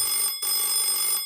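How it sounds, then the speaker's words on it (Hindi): A bell rings at a house in a cartoon, an electronic telephone-like trill in two bursts separated by a short gap, clear and alone. "चाचा चौधरी के घर पर घंटी बजती है।"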